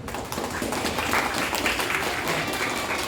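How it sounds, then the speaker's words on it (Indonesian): An audience claps for the speakers at a student leadership training session in Cisarua, Bogor. The applause is a dense, steady patter of many hands that stays loud and even throughout, with no voices over it. "kita beri aplaus yang meriah buat juru bicara masing-masing bidang"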